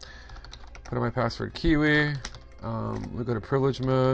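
Typing on a computer keyboard while entering a password at a Cisco router console, bursts of rapid clicking keystrokes heard under a man's continuous speech.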